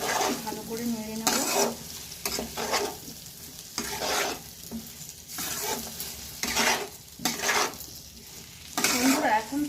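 Potatoes and pointed gourd, fried earlier, get stirred through a spice masala in a pan for a fish-roe curry. Scraping spatula strokes come in repeated bursts over a steady sizzle, close and fairly loud, with no talking.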